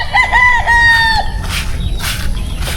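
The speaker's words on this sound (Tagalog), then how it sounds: "maniyak-siyak na yung mga sisiw ko" Chicks at a small poultry farm chirp loudly and close, with high peeping calls overlapping in a busy chorus.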